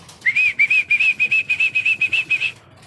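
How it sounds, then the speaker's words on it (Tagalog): A homing racing pigeon landing, its wings beating in a quick, steady series of about a dozen close, loud flaps with a whistling edge, then stopping abruptly. "si Penguin, yung isa nating ibon, ito na, kararating lang."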